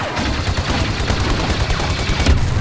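Turret gunfire in Star Wars Battlefront 2, a rapid, steady stream of loud blaster shots close by with heavy thumping bursts running without pause, no talking.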